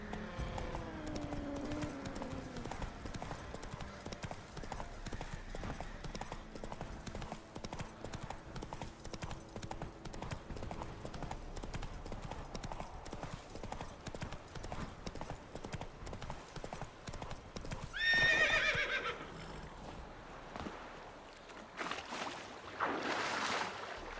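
A horse gallops in The Witcher 3 video game, its rapid rhythmic hoofbeats running steadily throughout over faint background ambience, with a brief brighter burst near the end.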